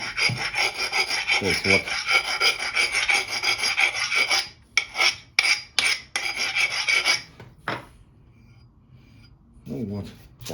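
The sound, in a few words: sharpening an axe cutting edge by hand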